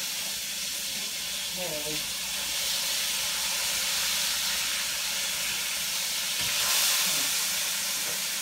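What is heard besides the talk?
meat frying for slow cooker Swiss steak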